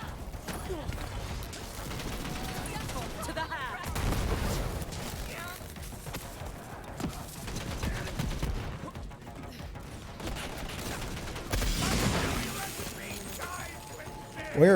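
Video game enemies open fire on the player in a dense, continuous clatter of gunshots and mechanical clanks, with people talking underneath throughout.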